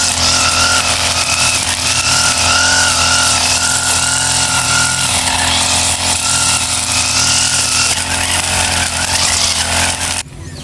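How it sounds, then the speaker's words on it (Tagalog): A grass cutter runs steadily for about ten seconds in a weedy, overgrown area, its loud engine droning and buzzing with slight rises and dips before cutting off abruptly at the end. "Panay pa ang pag-grass cutter."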